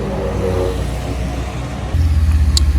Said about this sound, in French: Et 599 là-bas qui fait un bruit.